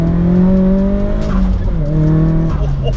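A 2002 Nissan S15 Spec-R, turbocharged, pulls hard on boost, its engine note climbing through a gear, dipping briefly at a shift, then rising again, loud and close from inside the car.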